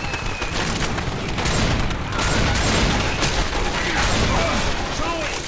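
Sustained gunfire in a Left 4 Dead 2 co-op match: constant overlapping shots and booms forming a dense, unbroken barrage, with voices calling out beneath the shooting.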